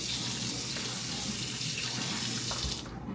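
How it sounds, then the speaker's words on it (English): Water running steadily from a kitchen tap into a bowl of raw chicken being cleaned with vinegar, a loud continuous splashing stream that cuts off abruptly near the end. "I'm about to add a little water to this bowl."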